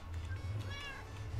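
A cat meows in Minecraft, one short mewing call rising over a steady low in-game hum, quiet and alone.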